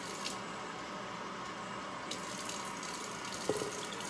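Water runs steadily from a tap into a container, a quiet continuous trickle with a couple of small clinks near the end.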